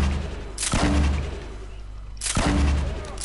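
Two loud, booming sniper shots in a video game, each a sharp crack with a rolling tail, spaced about a second and a half apart.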